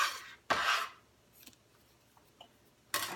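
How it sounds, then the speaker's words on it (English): A bench scraper scoops roughly chopped pecan halves off a board with soft scraping strokes: two quick scrapes close together at the start, faint light ticks and taps in between, and one more scrape near the end, all fairly quiet with no talk. "my handy bench scraper scoops it all up"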